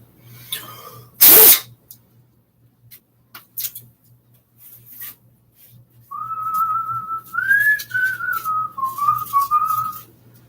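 A loud sneeze comes first, followed by a few faint clicks, then a person whistles a wavering tune up close for the last few seconds.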